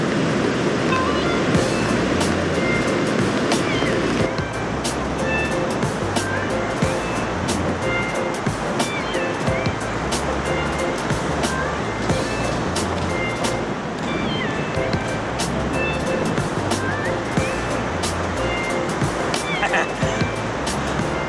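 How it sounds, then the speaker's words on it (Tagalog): Steady broadband surf wash from waves on a Boracay beach at night, continuous and fairly loud, with low rumbling and a faint mechanical hum underneath. "tapos yung alon, narinig nyo"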